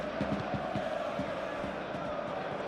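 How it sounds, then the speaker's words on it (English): Stadium crowd in the PES 2021 football game, during a simulated Ligue 1 match between PSG and Rennes, roaring in a steady, dense murmur with scattered sharper shouts and claps. "Now the crowd are demanding that they just finish this off"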